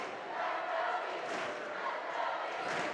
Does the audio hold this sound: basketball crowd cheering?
yes